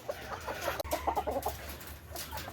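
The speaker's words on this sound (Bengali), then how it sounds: "এখানে আছে নিউ অ্যাডাল্ট দুইটা আয়াম সিমানির মেল" Two adult male Ayam Cemani chickens cluck softly in a steady run of low, close, repeated notes over a faint farmyard hum, with no talking.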